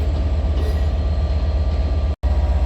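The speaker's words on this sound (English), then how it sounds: "And this train has just been given the green signal, so should be going." A train idles loudly at London Victoria station, with a steady low engine throb pulsing evenly throughout and a brief dropout near the end.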